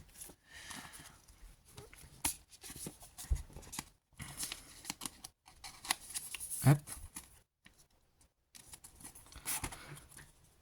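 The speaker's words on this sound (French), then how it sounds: "Ces cartes qui glissent à chaque fois, ah ça m'énerve" Collectible trading cards being handled on a table, with soft sliding, flicking and tapping in scattered bursts and a few brief pauses between them, fairly quiet and close.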